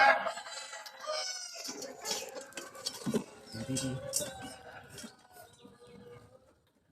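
Fighting roosters at a Thai cockfight crow and cluck amid a busy crowd, with someone talking loudly over the birds and steady background chatter.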